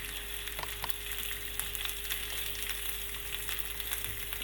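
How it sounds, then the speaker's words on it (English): Meat frying in a pan gives off a steady, moderate sizzle with scattered small pops and crackles, alongside a faint constant hum. "Meat's starting to cook a little bit."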